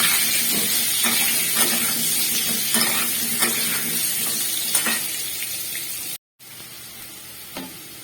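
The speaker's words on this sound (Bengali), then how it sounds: "দিয়ে লাল করে আলুগুলোকে ভেজে নেব" Potatoes fry in hot oil with salt and turmeric, a steady close sizzle with occasional clinks and scrapes of stirring, briefly cut off near the end.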